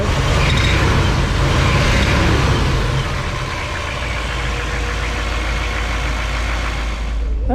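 A 1959 Chevrolet Bel Air engine runs at a steady idle, close and loud throughout, with a low, even rumble and no clear break.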